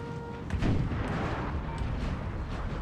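Cannon fire booms in the Napoleonic battle game Napoleon Total War, a deep rumbling blast followed by a sustained low roar of distant artillery and battle noise.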